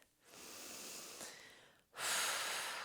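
Slow, audible breaths during a yoga flow: a long drawn inhale or exhale, a brief pause, then a stronger, louder rush of breath close to the mic, with no talking.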